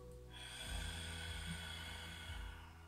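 A person draws a slow, steady breath in through the nose during a breathing exercise, with a soft airy sniffing sound close to the mic.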